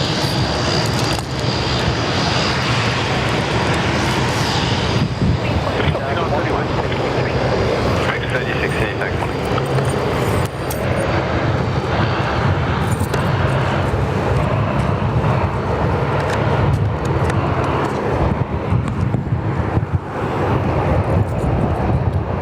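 An aircraft taxiing at Sydney Airport during the morning rush gives a loud, steady engine roar and hum that stays close and continuous, with a person talking beneath it.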